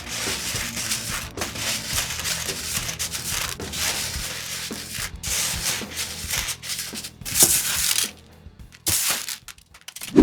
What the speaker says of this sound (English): to get a good coating-ish of coarse salt